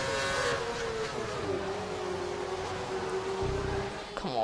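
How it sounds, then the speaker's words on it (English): A Formula 1 race car engine in a racing video game whines at high pitch, its tone sliding slightly down then rising again as the car accelerates, loud and steady with no talk. "Come on, I've got to overtake Perez now"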